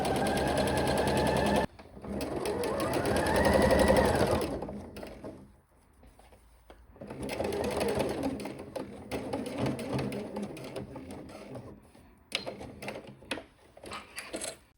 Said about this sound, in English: Ideally, you should use a twin needle for this top stitch.